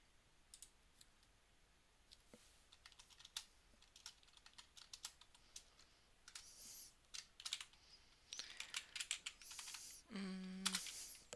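Fingers type on a computer keyboard while building a user interface in Unity, quiet irregular key taps and clicks that quicken into a brisk run near the end.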